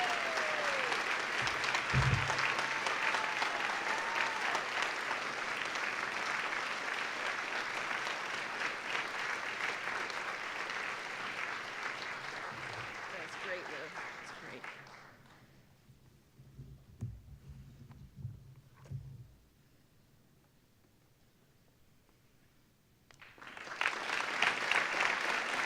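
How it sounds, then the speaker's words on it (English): A school staff awards ceremony audience gives sustained, full-room applause for an award winner, loud and steady for about fifteen seconds before fading into scattered claps, a quiet pause, then a fresh burst of clapping. "So I'd like us all, please, give her a round of applause"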